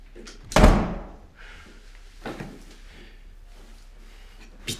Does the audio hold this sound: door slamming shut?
yes